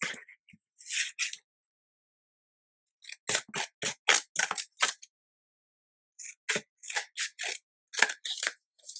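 Scissors snip through paper while cutting out a piece for a journal, with three clusters of short, crisp cuts separated by quiet pauses, close and distinct.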